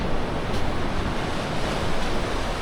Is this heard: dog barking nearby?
no